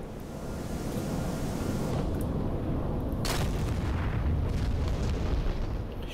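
Bombs exploding on a Scud launcher target in the DCS F-15E Strike Eagle flight game: a deep, sustained rumbling roar of blasts with a sharper burst midway, loud and continuous over aircraft noise.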